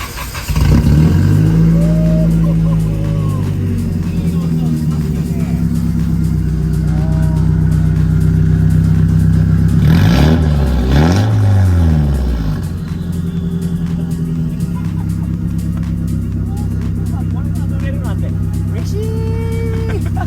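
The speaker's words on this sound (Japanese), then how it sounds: "エンジンかけていいですか？" A Nissan S15 Silvia kaido racer engine cranks and fires, then settles into a loud, lumpy idle. Midway it is blipped through two sharp, rising revs before dropping back to a steady rumble close by.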